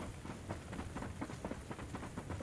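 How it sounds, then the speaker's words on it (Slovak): Heavy rain pours down in a video game as a dense, continuous loud hiss with grainy pattering, unbroken for the whole stretch. "Prší, len sa leje."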